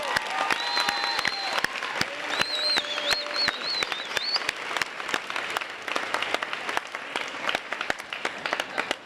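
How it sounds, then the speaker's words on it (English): An audience at a high school graduation ceremony applauds, with steady scattered clapping and a few whistles and cheers near the start, continuing evenly throughout. "let's give a round of applause before we do that"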